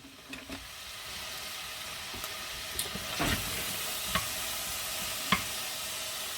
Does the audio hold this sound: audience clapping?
no